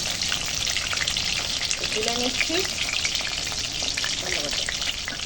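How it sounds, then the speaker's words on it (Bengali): Potatoes fry in hot oil, giving a steady, loud sizzle throughout with a few stirring scrapes and a brief quiet spoken phrase over the top. "আলুগুলোও সব ভাজা হয়ে গেছে"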